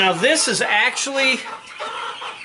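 Backyard chickens clucking close by in a few rapid rising calls, with a person talking over them.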